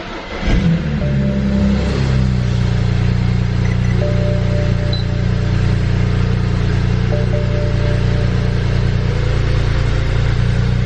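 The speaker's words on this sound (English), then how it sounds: "So I'm going to give it a first start now to see how things sound." A BMW with an N54 engine starting for the first time after inlet installation, catching quickly and settling into a loud, steady idle that runs continuously close to the microphone.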